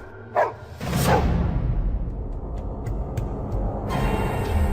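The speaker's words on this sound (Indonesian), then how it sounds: "setidaknya ada 7 ekor anjing liar menyala lalu melolong panjang" Wild dogs bark at night, a sharp yelp near the start and then a dense, continuous layer of barking and noisy rustle, fairly loud and close throughout.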